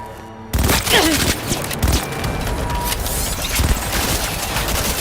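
Rapid gunfire rattles through an Xbox/PC video game firefight, with dense overlapping shots and booms carrying on steadily and loudly after an abrupt start, amid battle noise.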